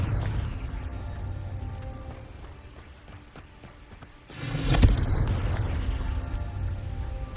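Confringo explosion spell cast in the video game Hogwarts Legacy, a sudden loud boom bursting out of low background ambience and rumbling away over a few seconds, with no voice over it.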